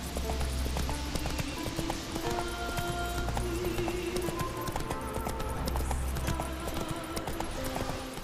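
Roach the horse gallops in The Witcher 3, a steady, fast clip-clop of hooves running on and on over game music and ambience, with no pauses.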